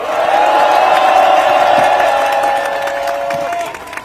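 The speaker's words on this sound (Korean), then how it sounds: "이재명 대표님께 힘내시라고 다시 한번 큰 박수 부탁드립니다." Crowd at a Korean emergency political rally cheering and applauding, a loud sustained wash of voices and claps with shouts rising above it, tapering slightly toward the end.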